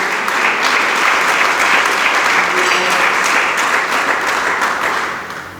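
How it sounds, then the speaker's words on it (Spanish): A church congregation applauds during a pastor's sermon on heroes of faith. Loud, sustained clapping from a large crowd fills the room for several seconds, then slowly tapers off. "Dele palmas al Dios del cielo."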